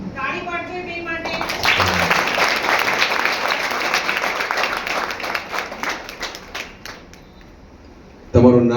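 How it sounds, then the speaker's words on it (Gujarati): An audience at a demonstration claps for two volunteers, a dense burst of applause that builds quickly, holds for several seconds, then fades, with a voice speaking before and after. "તાળી પાડજો બે માટે"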